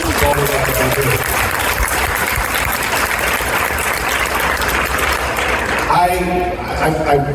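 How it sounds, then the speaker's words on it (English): Loud, dense applause fills the hall at an interfaith iftar as the audience honors the night's honoree, a continuous roar of clapping that thins near the end as a voice begins speaking. "can we give the honoree of the night, Chi-Care, a round of applause?"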